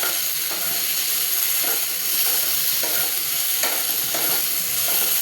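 Tomatoes dropped into frying lentil dal for Bengali cholar dal give a loud, steady, close sizzle and hiss that fills the whole stretch, with faint stirring scrapes underneath.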